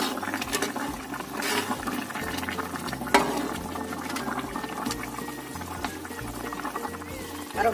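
Chicken in spiced sauce simmers in a pan over medium heat, a close, continuous bubbling and sizzling with occasional soft pops and a faint low hum, without talking.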